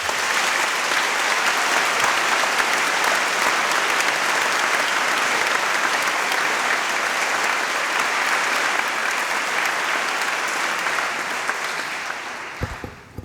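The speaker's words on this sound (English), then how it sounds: "Please join me in a round of applause for the faculty and the staff of the university" A large graduation crowd at Central European University applauds its faculty and staff, a loud, dense, continuous wash of clapping that holds steady for many seconds before thinning out into a few final claps.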